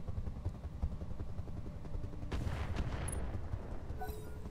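Weapons fire in the mech combat game Roguetech, a dense continuous rumble of gunfire and explosions with a sharp burst of impacts partway through, loud and without speech.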